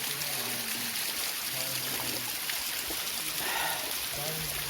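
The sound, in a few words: small waterfall and mountain stream flowing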